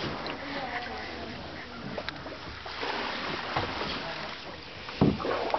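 Canoe paddling along the Ghost River trail, with soft water swishes and dips under steady wind and outdoor noise, a sharper splash near the end; people talk nearby.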